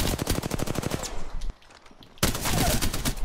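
Rapid automatic gunfire in the battle royale video game Apex Legends, loud and close, a burst of dense shots, a brief lull, then another sustained burst.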